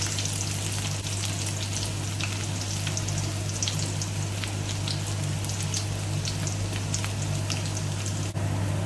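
Shallots frying in hot oil in a pan give a steady, dense sizzle and crackle, close and continuous throughout, with a low constant hum underneath.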